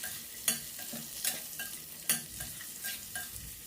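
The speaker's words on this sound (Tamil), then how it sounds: "இப்போது வெங்காயம், கொடமிளகாய், தக்காளி இது எல்லாத்தையும் போட்டு மீடியம் ஃப்ளேமில் ஃபாஸ்ட்டாக டாஸ் பண்ணி விட்டுக்கலாம்" Onion, capsicum and tomato are tossed fast in a pan over a medium flame, with a soft steady sizzle broken by several sharp scraping stirs that come in irregular bursts.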